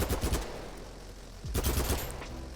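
Automatic weapon fire in the video game BattleBit Remastered comes in two rapid bursts of loud, punchy shots, and each burst is followed by a ringing tail.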